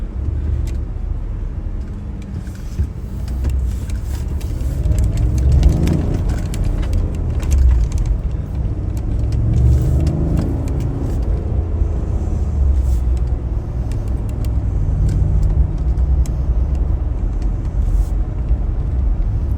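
Cars moving in traffic on the I-75 highway, a steady low road rumble heard from inside a vehicle, continuous and moderately loud.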